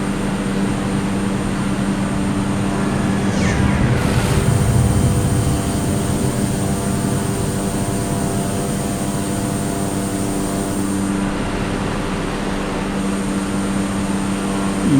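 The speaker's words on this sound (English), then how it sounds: "there's another aircraft departing." Aircraft departing in Microsoft Flight Simulator 2020 at Kota Kinabalu airport, a steady loud engine drone with a steady tonal hum and a brief swelling roar partway through, heard alone without talk.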